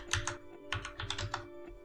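Close, quiet typing on a computer keyboard: two quick clusters of light key clicks over a low steady hum, with no talking.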